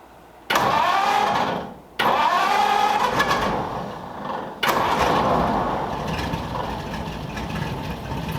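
Lincoln V12 engine cranking and firing, two brief starts that cut out, then a third catch that settles into a steady, loud rough idle.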